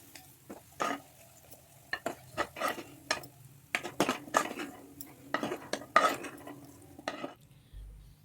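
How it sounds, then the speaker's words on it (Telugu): Fried tofu being served from a pan onto a plate, with a quiet series of clinks and scrapes of a utensil on cookware over a faint sizzle, ending in a short silence. "ఇప్పుడు స్టవ్ని ఆఫ్ చేసుకొని ఒక ప్లేట్లో సర్వ్ చేసుకోవాలి"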